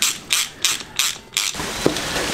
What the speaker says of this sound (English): And tighten up the bolts.